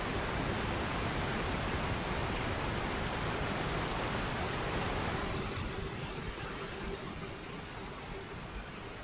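Steady rushing water from a waterfall in the Elden Ring video game, a constant loud broadband roar that drops slightly in level partway through and continues without pause.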